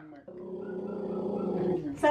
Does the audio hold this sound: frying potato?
no